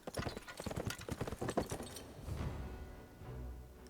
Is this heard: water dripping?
no